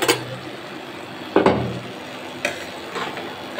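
A spoon scrapes and clinks in a pan while roasted cumin powder is stirred into a potato and eggplant fry with dried chela fish, giving a few distinct stirring strokes over a faint low sizzle.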